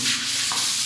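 A rotating-head sander works across a house wall in a brief, steady abrasive rubbing hiss, close and fairly loud, with no one talking.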